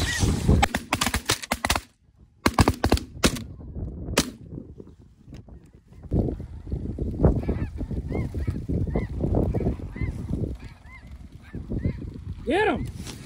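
Snow geese honking over decoys during a South Dakota hunt, a chorus of calls from the flock coming in, mixed with sharp gunshot cracks early on and some talk among the hunters.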